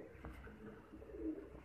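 A baby pigeon held in the hand gives soft, low cooing calls, faint and close against a steady background hum.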